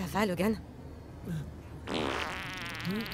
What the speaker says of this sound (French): Tu viens de péter.